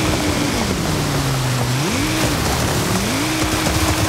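Ford car driving through deep water in a video game, a loud continuous engine hum rising and falling in pitch under a constant rushing splash of water.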